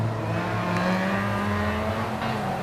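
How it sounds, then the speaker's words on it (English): A little Toyota Corolla races at a Ringwood hill climb khanacross event in the 2019 Australian championship, its engine holding a loud, steady, buzzing drone with a slight rise and fall as it runs nearby. "Oh, this is a good run by this little Toyota Corolla."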